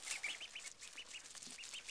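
Baby ducks in their pen give a steady run of high, repeated peeping quacks, close and continuous with no talk over them.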